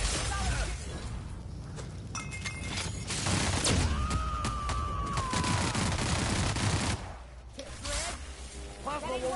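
Gunfire in The Outer Worlds, a scattered volley of shots over game sound and a sustained whine, with voices talking underneath.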